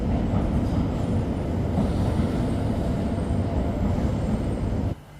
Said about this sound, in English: just about to leave the train station and get back on the street